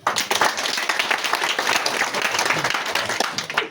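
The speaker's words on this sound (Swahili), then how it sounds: "Hebu tupige makofi" Audience in a church applauding, steady dense clapping from many hands that fills the whole moment at a lively, even level, with no voice heard over it.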